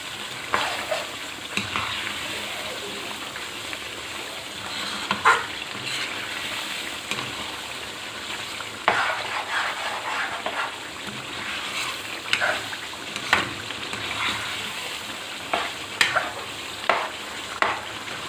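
Chicken karahi in Shinwari restaurant style sizzles loudly in the pan as garam masala and chopped green chilies go in, a constant frying hiss with frequent stirring clinks and scrapes and no voices.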